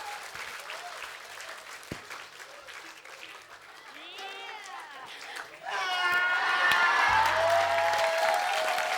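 Studio audience applause at a live Indonesian TV comedy show: a steady wash of clapping that swells louder about two-thirds of the way through, with high whistle-like tones rising over it near the end.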